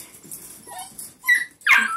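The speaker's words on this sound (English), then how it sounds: "So these are the last four of Natty and Shep's puppies." Four young puppies whimper and let out high yips, thin whines building to two sharper cries close by, with no talking.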